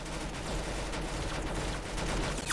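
Dense, steady gunfire from a Roblox Arsenal match fills the clip, a continuous rattle of shots at even loudness throughout with no talk over it.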